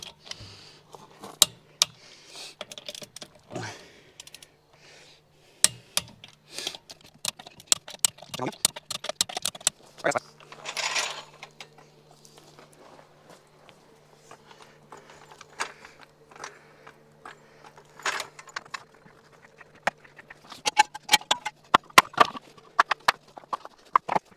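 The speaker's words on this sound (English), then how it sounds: "we got the torque wrench set to 76 foot-pounds" Torque wrench clicking as lug nuts are tightened on a Toyota Highlander wheel at 76 foot-pounds during a brake and rotor job, a series of sharp close clicks and ratchet snaps scattered irregularly over a quiet garage background.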